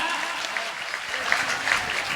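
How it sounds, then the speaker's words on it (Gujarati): Audience clapping at a Ramdevpir divine jyoti path santvani gathering, a moderate, continuous patter of hands with a few sharper claps standing out. "ગુરુ ભગવાન હલો તાળીઓ પાડો"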